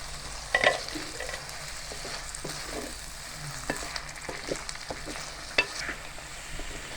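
Chicken for shami kabab fries in hot oil while being stirred, a steady sizzle broken by occasional sharp scraping knocks of the spoon against the pan, close and clear, with no voices.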